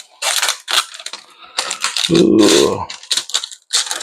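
Protective film peels off a graphics card backplate in crackly, rasping strips, close and loud in several bursts, one long drawn-out tear standing out, with a short exclamation from a voice.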